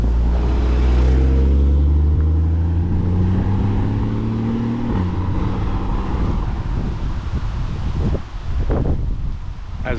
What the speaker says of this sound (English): until I was rudely interrupted by that Porsche